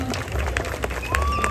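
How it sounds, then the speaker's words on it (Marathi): Wedding guests clapping in welcome during a ceremony, a loose burst of applause from a crowd heard close and moderately loud, mixed with scattered voices and background hubbub. "जोरात टाळ्या वाजवा."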